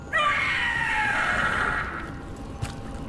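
A Howler creature in the Dragon Age: The Veilguard video game lets out a loud, piercing scream with a harsh, falling wail that lasts over a second before trailing off, followed by a brief thud.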